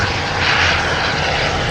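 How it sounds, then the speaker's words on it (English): Steady broadband roar of a JetBlue Airbus A220 jet passing at Boston Logan Airport, loud and continuous with a brief swell midway, no voices. "JetBlue A220"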